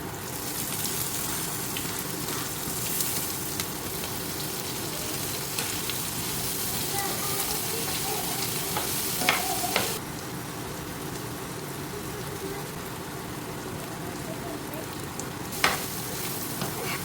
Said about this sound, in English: I let my meat get brown and then I add the onion.